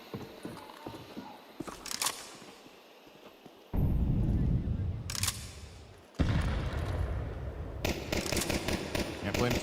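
Gunfire bursts in a Counter-Strike match at a BLAST World Final quarterfinal, with sharp broadband shots and rapid volleys mixed with crowd or caster noise and speech.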